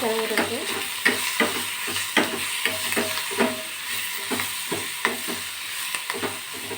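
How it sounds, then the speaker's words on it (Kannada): Curry leaves fry in a hot pan with steady crackling sizzle, broken by repeated sharp clinks and scrapes of a spoon stirring against the metal, close and fairly loud throughout. "ಸ್ವಲ್ಪ ಕರಿಬೇವು ಫ್ರೈ ಮಾಡ್ಕೊಳ್ತೀನಿ"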